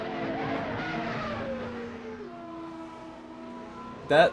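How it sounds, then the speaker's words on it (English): F1 race car engines in a racing video game set at the Estoril Grand Prix, a steady high whine with pitch sweeping down as cars pass, then a short loud burst at the end. "the F1 cars are so loud. They drown everything out."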